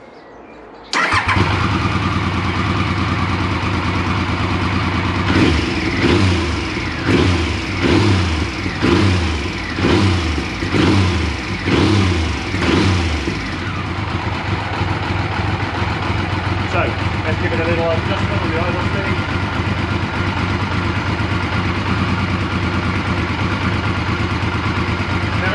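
A 1994 Triumph Sprint 900 motorcycle engine cranks and catches, revs in a series of rhythmic blips, then settles into a steady, loud, close idle, with brief talk over it.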